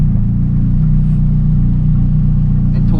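A Toyota Supra rumbles steadily at close range, its engine a loud, continuous low drone with no break and no voices over it.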